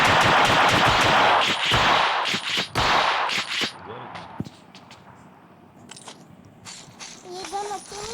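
Gunfire from a gun in a mobile shooting video game, rapid bursts of automatic shots loud and close in the first few seconds, then scattered single shots, with someone talking over it.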